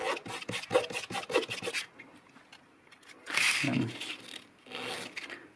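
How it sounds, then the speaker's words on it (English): A wooden hurdy-gurdy chien, the buzzing bridge, rubbed back and forth on sandpaper with a run of quick rasping strokes, then a couple of longer scrapes, close up. "I usually just rub it along a piece of sandpaper like this."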